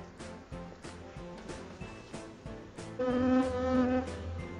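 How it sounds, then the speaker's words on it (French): Honeybees streaming back into the entrance of a small nucleus hive, a dense, steady buzzing hum that swells louder partway through, with a few faint thuds underneath. "C'est comme une vague d'abeilles qui rentrent"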